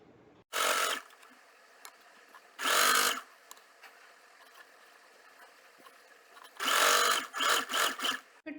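Home sewing machine stitching folded fabric edges onto a pocket for a kurti or trouser side seam, running in short bursts: two brief runs, a pause, then a longer run with several quick stop-start pulses, close and fairly loud.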